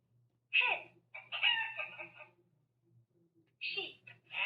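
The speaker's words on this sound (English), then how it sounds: "Hen." A hen clucking in a children's first-words learning program: a couple of short, clear bursts of clucking with a pause between, close and clean, with a spoken word nearby.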